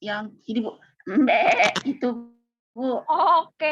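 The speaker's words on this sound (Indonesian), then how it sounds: "Suara kambing" A goat bleats in a wavering cry, played during a third-grade Indonesian lesson and mixed in among a woman's and a child's short spoken exchanges.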